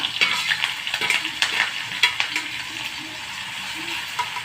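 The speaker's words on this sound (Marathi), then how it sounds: "आता हे छान तळून घ्यायचं हिरवी मिरची कच्ची वाटलेली आहे त्याच्यामुळं तळून घ्यायची" Coarsely ground green chilies fry in hot oil with cumin seeds for Pune-style vada pav, a soft continuous sizzle under close clinks and scrapes of a stirring spoon against the pan, with no talking.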